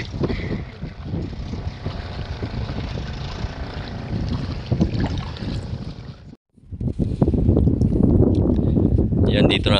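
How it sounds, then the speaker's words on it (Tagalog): A passenger boat moves across the sea with a steady rushing, wind-buffeted drone, briefly cutting out before returning louder and closer. "dito na kami sa bangka"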